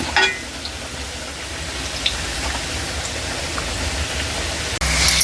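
Bondas, fritters made of batter, deep-fry in hot oil, giving a steady, even sizzling hiss that stays close and constant, with a faint clink near the end and no talking.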